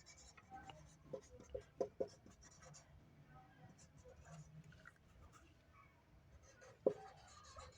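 Pen scratching on paper while an equation is written out in a maths lesson, giving short faint strokes and taps near the mic with a quiet background.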